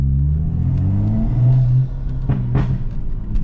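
A 2016 BMW 435i fitted with a catless downpipe and tune revs loudly at close range, its deep engine roar surging and then dropping back with a rough, throaty burble.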